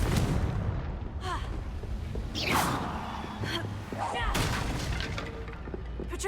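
A Confringo fire spell cast in Hogwarts Legacy bursts as several booming blasts with crackling tails, running through a dense mix of game noise.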